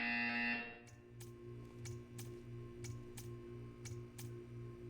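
In Portal 2, a buzzer sounds as a series of short, evenly spaced beeps in a steady rhythm over a low electronic hum, following a brief louder tone at the start.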